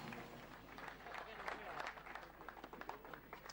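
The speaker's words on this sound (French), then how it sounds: "Mikkelsen applaudi par son équipe Skoda Grande-Bretagne" Applause rings out from a rally team greeting driver Mikkelsen at the Skoda service area during the Canary Islands rally, a steady patter of clapping from a small crowd beneath a commentator's voice.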